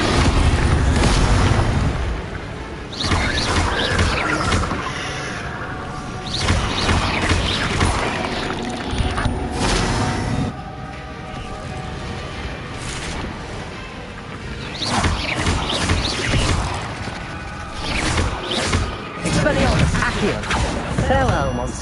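Casting the Incendio fire spell in Hogwarts Legacy brings dense, roaring whooshes and booming bursts that surge and fade in waves over continuous game noise, with speech mixed in.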